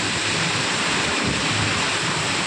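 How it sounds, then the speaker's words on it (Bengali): Heavy rain is driven by strong wind into a dense, loud, unbroken roar of rushing noise, with wind buffeting the microphone and no voices. "বৃষ্টি যেমন, বাতাস তেমন।"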